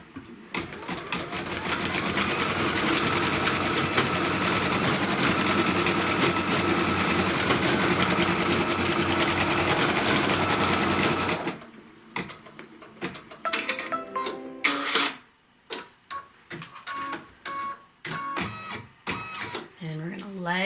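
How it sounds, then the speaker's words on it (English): An embroidery machine stitches a placement line for a fabric piece of a pin cushion, a loud steady rapid needle clatter for about eleven seconds, then stopping into sparse clicks, handling sounds and quiet talk. "next it's going to stitch the placement line for the piece of fabric"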